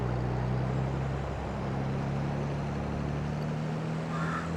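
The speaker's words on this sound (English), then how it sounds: "This 4755 is struggling a little bit to pull all this lime" A 4755 tractor engine in the Farming Simulator 22 video game labours under a load of lime, a steady low droning hum with a constant pitch, close and continuous throughout.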